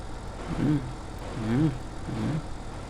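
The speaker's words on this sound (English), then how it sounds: "Need to expand the engine sounds here." Farm vehicle engine in Farming Simulator 17, a steady low rumbling drone with a few rising and falling revving swells, continuous and moderately loud throughout with no one talking.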